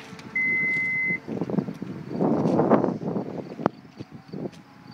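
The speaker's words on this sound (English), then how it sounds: "And there's the power rear hatch in action." Power rear hatch of a 2014 Toyota Highlander XLE AWD operating: a steady warning beep, then a smooth motor whir as the hatch moves, ending in a thud, heard close with no talk.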